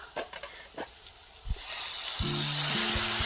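Ground turmeric, cumin and coriander with a spice paste hit hot oil in a pan over a handmade clay stove, bursting into a loud, steady sizzle after a few quiet clinks, with a low tonal hum joining near the end.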